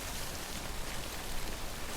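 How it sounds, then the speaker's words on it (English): Steady rain in the video game Death Stranding, a continuous broadband hiss of falling drops with no breaks, fairly soft and even throughout, with no voices over it. "But I want to start off by saying rain in this game is not fun."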